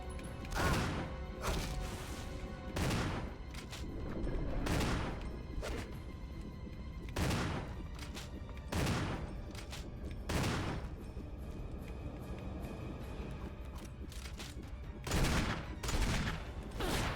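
Gunfire in the video game Resident Evil: a series of sharp, loud shots spaced about a second or two apart, each a short percussive burst, with little else between them.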